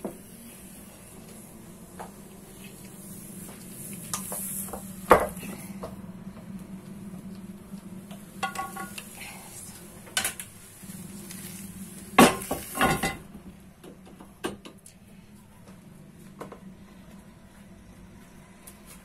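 Semolina harcha flipped in a frying pan with a tray, giving scattered metallic clatters and scraping knocks of pan and tray against a low steady kitchen background, with a couple of louder clanks midway.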